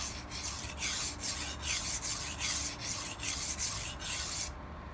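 A blade is rubbed back and forth on a wet water stone, making a rhythmic gritty rasping stroke about twice a second, close and alone, with no voices.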